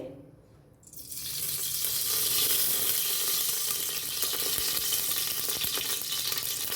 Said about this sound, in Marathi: कुकर आपला गरम झालेला आहे तर त्याच्यात आपल्याला तेल टाकून घ्यायचे